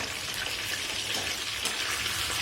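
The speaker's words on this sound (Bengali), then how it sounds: "মাছগুলোকে ভেজে নেব।" Steady, dense sizzling of giant freshwater prawns frying in hot oil, with small crackles and spatters throughout, close by and with no talking.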